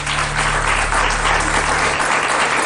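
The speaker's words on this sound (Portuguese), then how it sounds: "Um grande aplauso para os dois." Studio audience applauding on a Portuguese afternoon TV talk show, a dense, steady wash of clapping filling the whole stretch at full level, with faint hum underneath and no talk.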